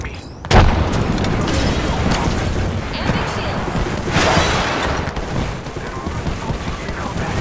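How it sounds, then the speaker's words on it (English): A frag grenade goes off in Apex Legends with a sudden loud boom, followed by continuous battle noise and rumble, while voices talk over it. "Frag grenade set."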